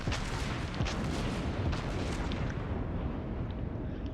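Tirpitz battleship main guns firing in World of Warships, heavy booming blasts layered over a dense, continuous roar of naval gunfire and explosions, loud and sustained throughout.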